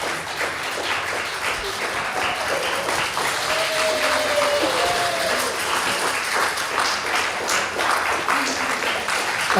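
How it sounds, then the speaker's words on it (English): Sustained audience applause fills a hall after a synagogue Purim spiel, dense steady clapping throughout with a faint tonal whistle or cheer rising briefly in the middle. "Applause for our cast."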